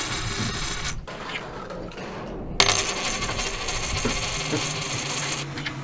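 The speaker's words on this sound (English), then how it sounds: "the 56, and supposedly they sound different too." A 1965 silver quarter drops and clatters with a bright metallic ring, following a short duller coin sound, and lingers close and clear in a quiet room.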